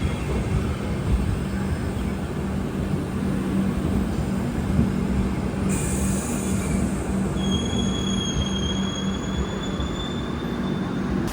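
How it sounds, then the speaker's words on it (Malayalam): The Punalur–Madurai Express, running with LHB coaches, pulls out with a continuous low rumble of rolling wagons. Thin wheel squeals rise partway through and hold over a steady, fairly loud bed of noise. "നമ്മുടെ പുനലൂർ മധുര എക്സ്പ്രസ് അങ്ങനെ യാത്ര പുറപ്പെട്ടിരിക്കുകയാണ്"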